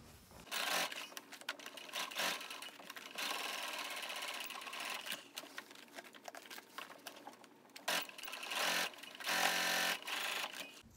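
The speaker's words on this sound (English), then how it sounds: "So I'll sew down the lines." A sewing machine runs in quick, steady bursts while stitching lines across a peekaboo tote bag, with short pauses between runs, close and moderately quiet.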